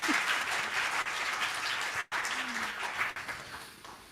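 Congregation clapping during a Shabbat synagogue service, steady dense applause from a room of people with a brief break midway before it resumes.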